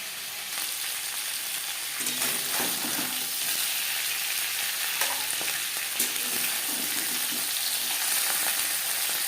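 A fish head frying in oil for a Bengali kalia crackles and sizzles continuously, nearby and fairly loud, while a spatula stirs and scrapes the pan in a few scattered knocks; no one speaks.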